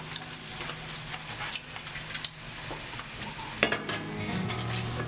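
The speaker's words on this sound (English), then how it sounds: "So I'm adding them to the adobo mix." Swordfish steaks being stirred into sizzling adobo sauce with onions in a hot pan, a steady fry with scraping stir strokes and a louder clatter near the end, no talking.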